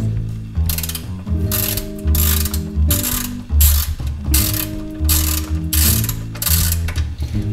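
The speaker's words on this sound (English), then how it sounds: "Over here I have a ratchet with a 17 millimeter socket for the drain plug, and we're going to get ready to take it off." A ratchet with a 17 mm socket loosens a car's oil drain plug, giving loud, close bursts of rapid pawl clicking in repeated strokes with brief pauses between.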